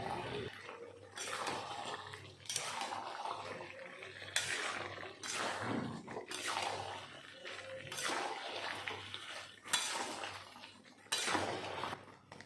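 Fried prawns are stirred into a pan of jackfruit curry. A spoon scrapes and clatters against the pan in repeated rhythmic strokes, soft and close, with no talking.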